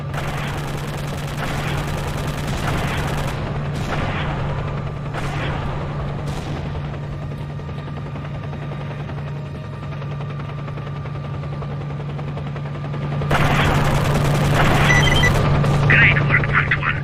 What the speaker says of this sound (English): The helicopters are tearing the joint to pieces.